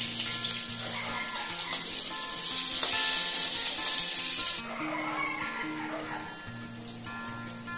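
Eggplant slices coated with salt, sugar and turmeric frying in a pan, giving a continuous close sizzle and crackle that swells louder for a couple of seconds before settling back.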